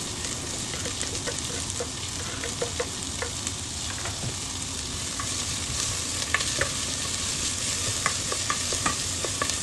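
Onion frying in a pan with ginger and garlic for a simple home-cooked dish, a steady close sizzle with scattered stirring scrapes and ticks throughout, no voices.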